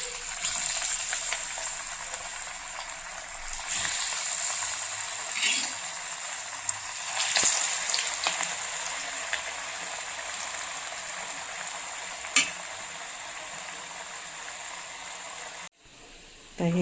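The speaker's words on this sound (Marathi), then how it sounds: "आता हे बाकीचे पण तळून घेऊया." Medu vada made from an instant batter frying in hot oil, giving a steady, loud sizzle and bubbling hiss that runs throughout with small crackling pops, then cuts out briefly near the end.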